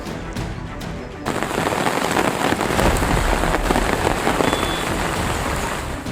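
Heavy rain pours down during the Tamil Nadu floods, a dense, loud, constant hiss of drops hammering surfaces that thickens after a brief quieter opening.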